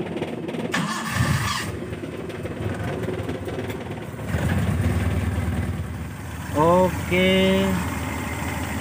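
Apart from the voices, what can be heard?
engine starting after adjusting contact breaker points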